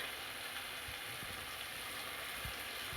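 Coriander powder, cumin powder and green chili paste sizzle in a pan for a Bengali jute-leaf dish, a soft, even frying hiss with a few faint low knocks scattered through it.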